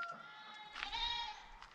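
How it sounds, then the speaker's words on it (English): A goat bleats on a farm, calling repeatedly for its dead companion buck; two drawn-out, quavering cries sound at moderate distance against a quiet background. "his buddy Cider has been yelling for him all day"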